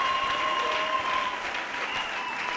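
A church congregation at a Sunday service claps in a steady, dense wash of applause, with scattered cheers and a sustained tone beneath it.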